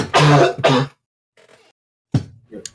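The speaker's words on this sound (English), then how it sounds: "I still have a little bit of a cough" Two harsh coughs come in quick succession, followed after a pause by a shorter throat-clearing sound, close and loud.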